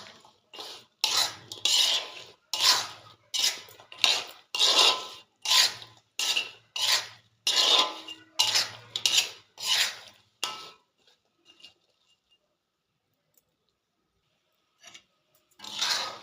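Chicken pickle stirred in a pan, a steady run of about fifteen rhythmic scraping strokes of a spoon against the metal, close and clear, followed by near silence with a couple of faint scrapes at the end.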